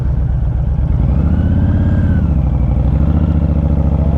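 Honda Fury motorcycle ridden at night, a loud, close, steady engine rumble with a low throbbing drone that rises slightly in pitch as it pulls along, no talk over it.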